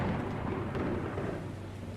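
Thunderstorm rumble in Gone Home, a dense low roar with one brief crack, steady and fairly loud throughout, nobody speaking.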